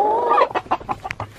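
A mother hen clucks up close in a quick series of short, throaty notes after a longer drawn-out call, loud and clear with no other sounds.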